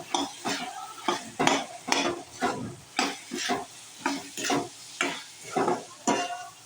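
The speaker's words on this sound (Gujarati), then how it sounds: "હવે આપણે તેને હલાવી લઈએ." Rhythmic scraping of a spoon stirring batata poha in a pan, about a dozen regular strokes with a soft sizzle underneath, close and clear.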